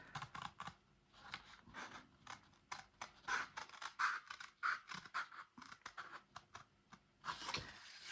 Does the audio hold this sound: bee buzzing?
no